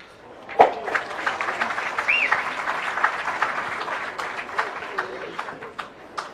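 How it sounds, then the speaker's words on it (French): Spectators at a pétanque championship in France applaud, a sustained ripple of clapping with a sharp knock of boules early on, a whistle and faint voices in the crowd. "Les applaudissements que vous entendez sont pour Farah Ndiaye, apparemment."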